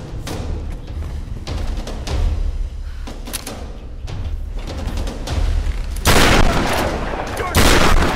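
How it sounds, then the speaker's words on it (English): Enemy gunfire in Tomb Raider Definitive Edition: rapid bursts of shots with sharp cracks and thuds, growing louder and denser toward the end, over a busy game soundscape. "Sounds like they got guns"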